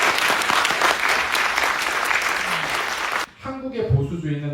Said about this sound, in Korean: 박수 더 크게 쳐주십시오.